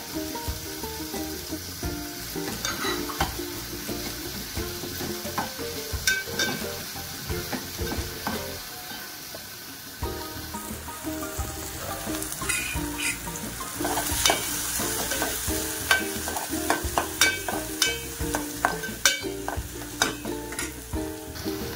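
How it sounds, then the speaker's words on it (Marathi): Onion and tomato sautéing in a pan with green chillies, a steady close sizzle punctuated by frequent scrape-and-stir clatters of a spatula, continuous throughout with no talking. "तर आता कांदा टोमॅटो छान परतून झालाय"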